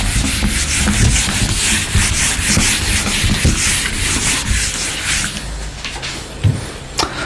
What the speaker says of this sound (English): So let me rub the board.